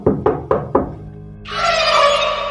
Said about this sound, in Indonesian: Tiba-tiba, terdengar suara ketukan di pintu.